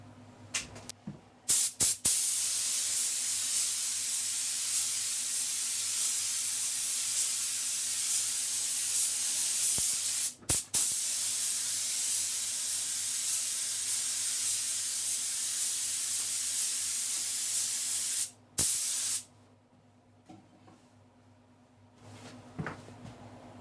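Aerosol spray can laying a third clear coat onto a car headlight during restoration, a loud steady hiss in long bursts of about eight seconds each, separated by short pauses and clicks, close to the microphone with no talking.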